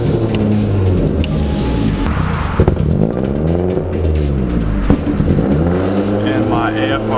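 A Chevy Cruze 1.8L fitted with an eBay turbo, running a lean-rich fault, revs unevenly under a feathered throttle, its engine note droning and swelling steadily throughout while a person talks over it.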